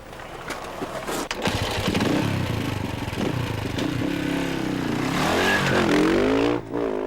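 Motorcycle engines rumble and rev nearby at a refuelling stop in an endurance rally, pitch rising as the bikes pull away, with steady loud engine noise throughout.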